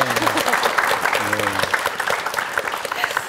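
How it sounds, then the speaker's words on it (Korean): Studio applause during a regional TV debate gives a steady wash of many hands clapping for several seconds. Voices speak over it at the start. "아이고 박수 쳐야겠네요"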